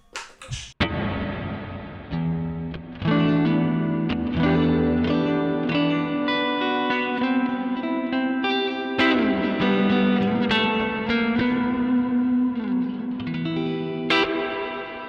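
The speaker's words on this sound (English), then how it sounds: "Then in the post effects loop, I'll turn on the reverb. I have a huge big reverb here." Electric guitar played through a Koch 63'OD all-tube Dumble-style overdrive with a huge reverb in the effects loop, ringing chords and single notes that sustain and wash into long reverb tails, loud and close, with no talking.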